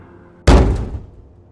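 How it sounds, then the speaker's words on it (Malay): A door slams once in a public toilet with a loud, close wooden bang after a quiet start, then the boom decays over about half a second. "Pintu dihempas."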